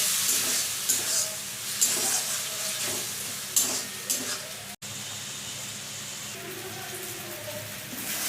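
Spice masala with a splash of water frying in a pan and being stirred for green chicken, a close, steady sizzle broken by repeated scraping stirs, with no talking.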